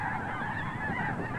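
A large flock of snow geese honks continuously and loudly, a dense chorus of overlapping calls close by with no talk.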